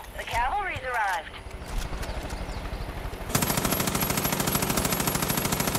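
Rapid automatic gunfire from a light-recoil gun in the video game Far Cry 5, a fast steady stream of shots that starts after a few seconds of a voice talking over softer game sounds, then continues alone.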